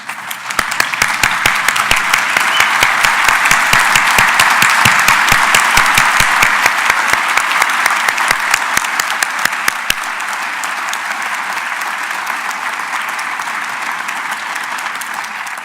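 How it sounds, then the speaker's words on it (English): A standing crowd at a public event applauds veterans and ROTC students with loud, sustained clapping from many hands. The clapping holds strong for about ten seconds before softening into a lighter, more distant patter. "please stand up and give them a round of applause."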